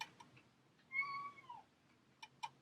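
A domestic cat meows once in a long drawn, falling call near the middle, with a few short softer meows or chirps toward the end, close by in a quiet room.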